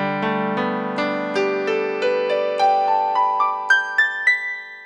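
A piano chord with an added sixth played as a rising arpeggio, about a dozen clear notes struck one after another in quick, even succession and climbing in pitch, each ringing on, with no talking.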